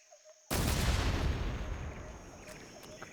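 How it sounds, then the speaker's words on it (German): Fireworks in the 2004 game Metal Gear Solid 3 go off in one sudden loud blast, followed by a dense rumbling roar of crackling explosions that slowly fades with no talk over it. "Die Explosionen sind schon sehr geil gemacht."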